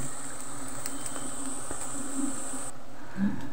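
Bees buzz in a steady, close drone around a large wild honeycomb in a dark spot in the rural Philippines, with a thin high whine running throughout and no voices.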